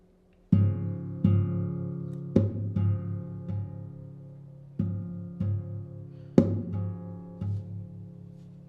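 A string instrument, likely a guitar, imitates the rim shot of an Argentine bombo drum in a folkloric style, with about ten sharp percussive strikes in an irregular rhythm, each ringing on with sustained low tones, played close and alone.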